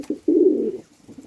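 A domestic pigeon coos near a nest box in a loft, one short note followed by a longer, deep, throaty coo and a faint trailing murmur, close and clear with no talking.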